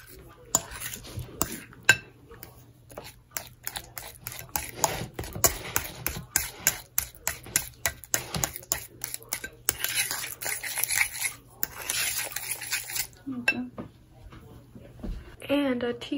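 Banana bread batter being mixed in a bowl, a long series of quick clicking, scraping utensil strokes against the dish, close, with people talking at times.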